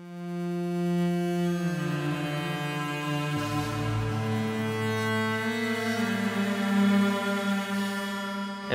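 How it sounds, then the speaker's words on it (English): A Korg KRONOS synth layers four wave sounds with two distorted guitar samples into one sustained, harmonically rich chord, shifting pitch a couple of times and ringing steadily at moderate volume without any speech. "what you're hearing here is basically 4 different wave sounds happening at the same time, plus 2 different distorted guitar samples"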